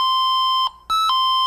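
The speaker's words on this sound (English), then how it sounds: "it either rings as a chime" A fall-prevention motion alarm set to chime mode sounds a loud, bright electronic tone that holds, dips briefly, then rings again in two quick pulses before holding steady, alone and close.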